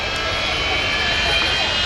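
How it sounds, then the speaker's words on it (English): The Avro Vulcan XH558 bomber's four Rolls-Royce Bristol Olympus engines roar at takeoff, a loud steady jet rush with a high howling edge, heard briefly and continuously up close. "we shall hear the famous Vulcan howl from the 4 Rolls-Royce Bristol Olympus engines"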